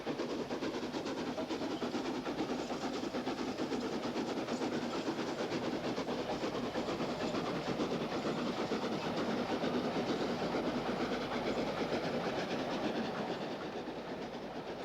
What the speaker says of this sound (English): Note the goods brake van at the rear of this mixed train.